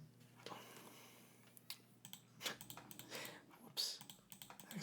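Someone types on a computer keyboard during photo editing, with faint, scattered clicks and short bursts of keystrokes at an irregular rhythm in a quiet room.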